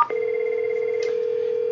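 A desk phone rings steadily with an incoming call to extension 220 in an office call-center setup, a continuous electronic tone held from start to finish, loud and close with no talking.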